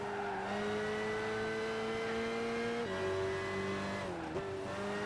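A car engine in the racing video game Gran Turismo 5 drones steadily at high revs, its pitch dipping briefly at two gear-change moments, a continuous even tone with no talking.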